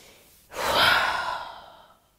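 A single deep, slow inhale through the nose during a hatha yoga breathing exercise, close and breathy, swelling and then fading out over about a second and a half.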